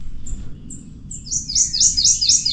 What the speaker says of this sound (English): He's a little yellow bird.